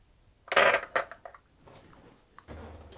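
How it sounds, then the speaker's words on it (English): A whisk stirring flour with baking powder and salt in a bowl, a few sharp clinking scrapes up front, then quieter brushing strokes, close up with no talk. "I'm going to mix those around with a whisk just to get those mixed through"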